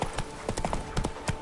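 Roach, the horse in The Witcher 3, trotting with clear, rhythmic hoof clip-clops, close and moderately loud, with no voice over them.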